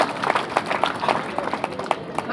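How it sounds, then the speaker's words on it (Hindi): Audience clapping at a school science quiz final round in Rajasthan, a scattered burst of applause from a crowd of students heard fairly close. "एक बार तालियां तो बजा दें सबके लिए"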